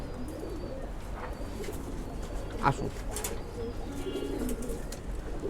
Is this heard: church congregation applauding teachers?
no